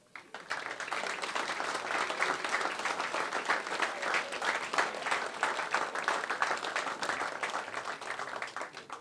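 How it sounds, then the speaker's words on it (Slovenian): Sustained audience applause at a Statehood Day ceremony in Mengeš, honouring this year's award winners, with dense steady clapping from a large crowd lasting throughout. "Še enkrat bi vas prosila, da z aplavzom počastimo vse letošnje nagrajence"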